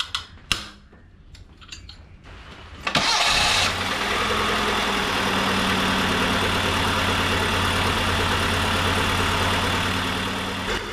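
A car engine cranks and starts after a timing belt, tensioner and camshaft pulley replacement, then settles into a steady, even idle, close by and moderately loud, preceded by a few tool clicks and taps.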